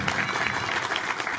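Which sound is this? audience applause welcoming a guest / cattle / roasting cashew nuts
audience applause welcoming a guest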